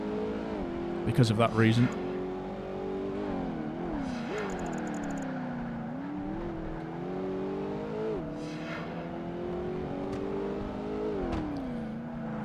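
A race car engine in Project Gotham Racing 2 revs up and down through tight corners, pitch rising and falling repeatedly over a steady motor drone, while someone talks over it.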